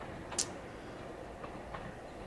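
A train rolls past a home signal at a station in The Railway UE4 railway simulator, a steady low rumble with a sharp metallic tick early and faint clicks later, heard alone.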